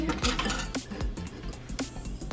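A small whisk beats eggs in a bowl for gluten-free spaetzle batter, giving quick light metallic clinks and scraping taps against the bowl. The sound is fairly faint and continuous, with no talking.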